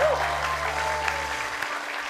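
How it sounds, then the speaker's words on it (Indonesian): A studio audience applauds on a TV variety show, with steady clapping over a low musical hum that cuts out partway through. "Tepuk tangan sekali lagi untuk Niken."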